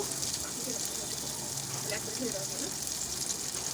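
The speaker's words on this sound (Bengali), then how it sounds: "পেঁয়াজকে আমি স্লাইস করে নিয়েছিলাম আগে যা এখন অ্যাড করছি এবার এগুলো হালকা হালকা করে ভেজে নেব" Sliced onions fry gently in a pan for moong dal khichuri, making a continuous soft sizzle under someone talking throughout.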